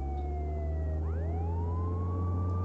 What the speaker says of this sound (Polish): Wow! Jedziemy z syreną.